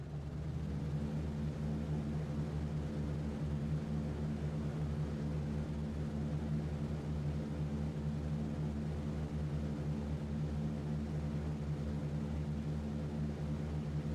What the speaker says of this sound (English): But we'll do stuff like watch takeoff.